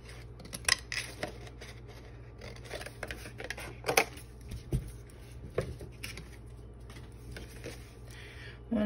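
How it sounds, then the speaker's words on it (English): Scissors snip at craft material in scattered short clicks and crisp cuts, close and fairly faint, with small handling clatter between cuts in a quiet room. "I really should have brought my smaller pair of scissors over here for this."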